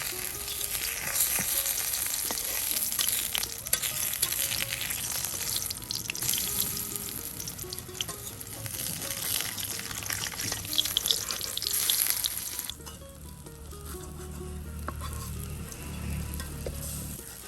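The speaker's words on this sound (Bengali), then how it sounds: "এই যে দেখুন বড়াগুলি কিন্তু এখন উলট পালট করে দেওয়া হবে তেলে।" Mung lentil fritters (bora) sizzle in shallow oil in a village kitchen, a dense close crackle with scattered clicks of turning, the frying dropping to a lower, quieter hiss near the end.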